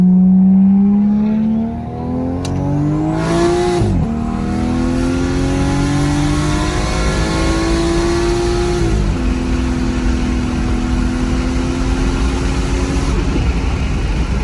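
A single-turbo 1JZ Toyota Soarer with an automatic gearbox pulls hard, engine revs rising loudly through long gear sweeps with clear drops at each upshift, heard continuously from inside the car.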